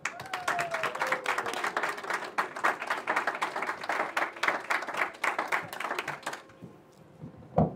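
A theatre audience at the Ghostlight Theatre breaks into steady, enthusiastic applause for a comedian taking the stage, the clapping sustained for several seconds before quickly tapering off.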